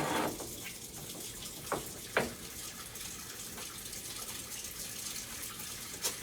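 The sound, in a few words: washing hands under running tap water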